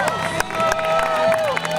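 A crowd lining a race course cheers and shouts continuously throughout, dense overlapping voices with a few sharper yells, close and fairly loud.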